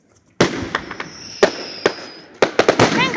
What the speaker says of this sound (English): Why are they doing fireworks?